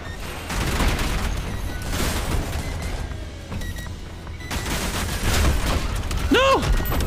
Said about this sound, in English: That's when I gotta whip the rocket launcher out when they're low like that. And then you get the AoE explosion damage too.